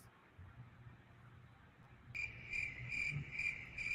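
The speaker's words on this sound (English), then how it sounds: "Why we play the crickets?" Crickets chirp in steady repeating pulses, a bright high trill that starts partway through over a low background hum.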